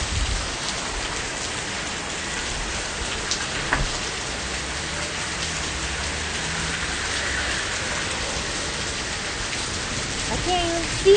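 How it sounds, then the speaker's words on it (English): Very heavy rain pours down steadily, a dense continuous hiss of drops drumming on surfaces close by, with no voices. "It's raining so hard right now."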